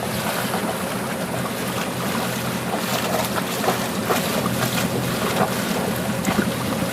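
A sailboat motors out of an anchorage bay in the Marquesas, French Polynesia, a steady broad engine and water rush with wind buffeting the microphone, loud and unbroken throughout.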